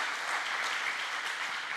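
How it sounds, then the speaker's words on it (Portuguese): Loud, steady applause from a church congregation, dense and continuous without a break, with no speech over it. "Dê uma salva de palmas bem forte para você acordar"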